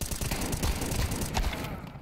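Shotgun fire in Counter-Strike 2 rings out as a dense cluster of sharp, close gunshot bursts over busy game noise, with no clear pause between reports.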